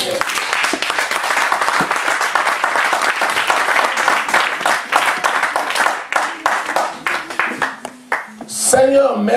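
A church congregation claps and cheers in praise during a thanksgiving service, sustained dense applause that thins into scattered claps before a voice speaks over the end.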